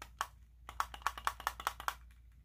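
A malfunctioning Simba toy gives off a quick run of sharp mechanical clicks, about a dozen in roughly two seconds, close and fairly faint against a quiet background.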